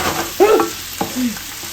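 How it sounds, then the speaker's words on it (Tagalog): Garlic sautés in a pan for chicken adobo, a soft close sizzle with a couple of brief stirring clicks over a short stretch. "igisa po muna natin yung bawang"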